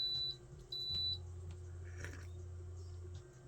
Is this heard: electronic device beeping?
yes